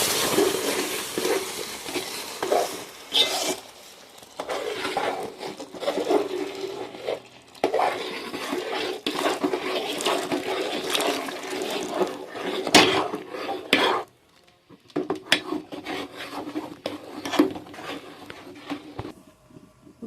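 Hot water poured into roasted rava in a pan for rava kesari, followed by repeated scraping and clinking of a spoon stirring against the metal, close and fairly loud with brief pauses.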